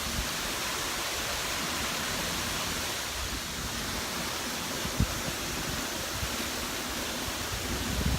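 Waterfall at Tarzan Falls, a steady broadband rush of falling water that holds constant and fills the whole stretch, with a single brief knock partway through.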